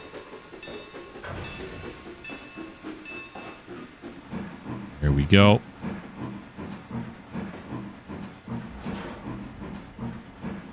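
A passing train in the Trainz 2022 railroad simulator, on the C&O Hinton yard route, brings a soft hiss and rumble, with a sudden loud burst of steam-like noise midway before the rolling sound settles back down.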